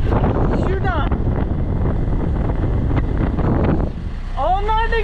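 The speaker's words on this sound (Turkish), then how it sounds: "Bir squall geldi." A squall blows across the open sea near a sailing boat bound for Tobago near Trinidad, a loud steady roar of wind buffeting the microphone with splashing water, and sharp whistling tones rise near the start and end.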